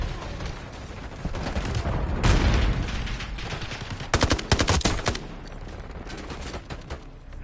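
Rapid gunfire rattles in the video game FragPunk: a fusillade of sharp bursts that swells near the middle, then eases back into continuous combat noise.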